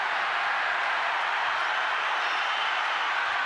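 Dense, steady roar of a large rugby league stadium crowd at a North Queensland Cowboys versus Canberra Raiders match, a constant wash of cheering and noise with no breaks, loud and filling the space.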